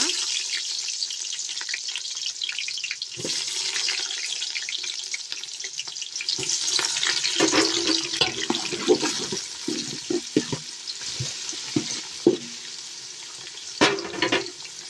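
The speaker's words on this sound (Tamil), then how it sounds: "வெங்காயம் நல்லா ப்ரௌன் கலர் வர வரைக்கும் வணக்கணும்." Chopped onions frying in hot oil for a home-style chicken biryani, a steady close sizzle and crackle running throughout with a few clinks and stirring knocks from the pan.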